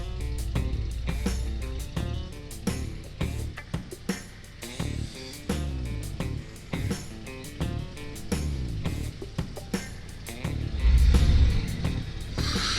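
A 2023 Harley-Davidson CVO Road Glide 121 motorcycle rides steadily, its engine rumble continuous and close with throttle changes and wind noise throughout.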